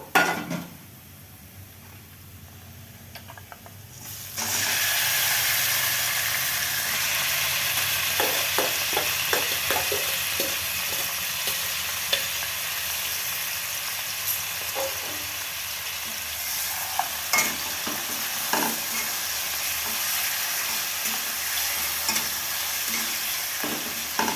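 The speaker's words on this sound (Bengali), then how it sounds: "মাংসটা একটু নেড়ে চেড়ে রান্না করতে হবে" Marinated chicken sizzles loudly in a hot pan while a spatula scrapes and stirs it in irregular clinks, steady frying throughout.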